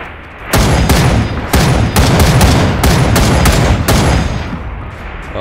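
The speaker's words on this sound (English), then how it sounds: "We're gonna shoot the thruster." Gunfire at a thruster in the video game People Playground: a loud, continuous stream of rapid shots, close and dense, over a roaring background that eases off near the end, with no talking.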